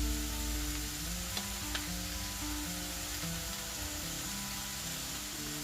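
Steady sizzle of meatball sauce ingredients, including sliced whole chilli with seeds, frying in a flat-bottomed wok, a continuous close crackle with occasional light stirring clicks.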